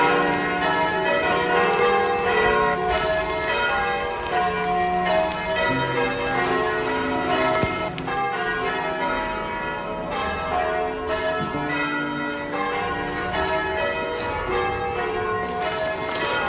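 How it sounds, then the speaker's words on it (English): Church bells ring continuously at Westminster Abbey in Mission, British Columbia, during a bell training class: a dense, overlapping peal of many tones, loud and sustained throughout, with no talk. "There goes the bells."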